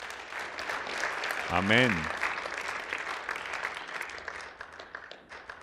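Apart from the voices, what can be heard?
applause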